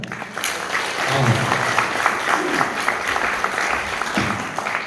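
Audience applause fills a multipurpose hall at a Gumi international friendship association training event, steady dense clapping sustained throughout at a moderate, close level.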